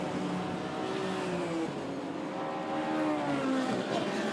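BMW race cars, including a BMW M3 GTR, lapping the Brands Hatch Grand Prix loop in a classic sports car race: a continuous, loud engine drone whose pitch climbs and falls as the cars accelerate and shift, with no talking.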